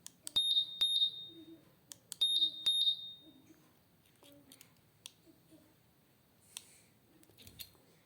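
Honda PCX 160 scooter fitted with a keyless system sounds its answer-back alarm: two pairs of sharp, loud high chirps in quick succession, followed by quieter clicks and faint background noise.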